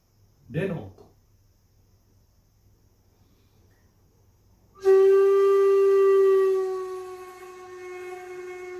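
A brief spoken word, then silence, followed by a bright sustained bamboo flute note, re, that starts strong and eases gently.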